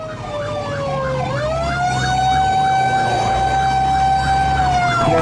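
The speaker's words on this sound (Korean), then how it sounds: "사이렌 소리를 높이자 차량들이 양옆으로 비켜서기 시작합니다" A fire engine's siren wails loud and close as the truck pushes through traffic on a Busan road, the tone rising into a steady, warbling sweep over a low engine rumble.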